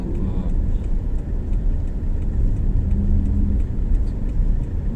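Heavy, congested road traffic in Makati heading toward Guadalupe, a steady low rumble of car engines with occasional revving, close and continuous, with no talk.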